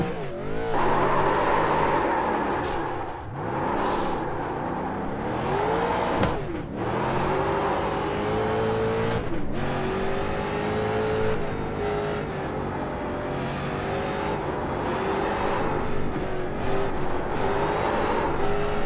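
Race car engine in the iRacing simulator, loud and close throughout, revving up and down in repeated pitch sweeps as the throttle is dabbed and released, with brief dips between bursts of acceleration.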